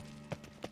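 A few soft hoof clops of a horse in The Witcher 3: Wild Hunt, two or three distinct knocks in a slow gait, faint and brief against a quiet background.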